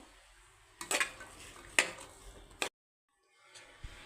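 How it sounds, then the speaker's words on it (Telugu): A spoon stirs garam masala into a softened chickpea and carrot curry in a pot, giving three sharp, close metal clinks and scrapes over a low rustle, then a short silence and one faint tap. "ఇప్పుడు ఇందులో చివరిగా మనము గరం మసాలాని అయితే వేసేసి మిక్స్ చేసుకుంటే సరిపోతుందండి"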